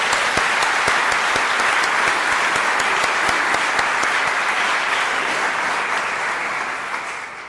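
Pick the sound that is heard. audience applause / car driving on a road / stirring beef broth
audience applause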